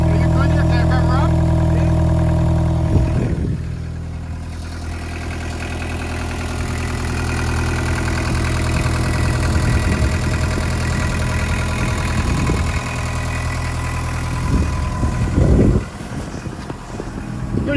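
An overheating car engine idling outdoors, a steady low droning idle with layered hum and a few clanks and bumps, while people talk nearby.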